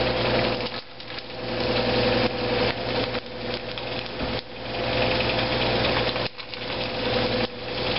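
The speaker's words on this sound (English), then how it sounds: "I'm going to turn this fan on, guys" A small electric fan running on its low setting in a kitchen, giving a steady, unbroken whir and hum that fills the whole stretch, with a few brief dips.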